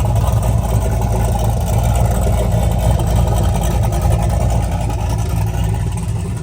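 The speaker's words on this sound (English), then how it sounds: "we're gonna hit the cutout and then you'll hear the whole pitch change as we're in the fender dump" Turbocharged Ford Fairmont idling with its CO2-powered exhaust cutout open, dumping at the fender, a loud, deep, steady rumble with a throbbing pulse, close by and continuous.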